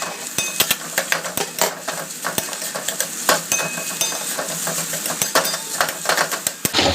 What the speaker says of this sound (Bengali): তো চলো এটা ভালো করে ভাজা ভাজা করে নিই